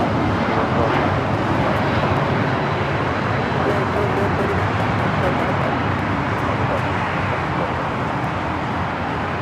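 Jet engine noise from a Lufthansa heavy airliner on the ground at LAX fills the air as a steady, broad roar, dense and constant, with a voice talking faintly underneath.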